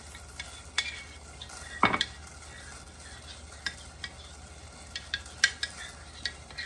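A utensil stirs a thick cornstarch slurry in a pot for gluten-free teriyaki sauce. Soft, irregular scrapes and light clicks sound against the pan, with one louder knock, over a quiet background hum.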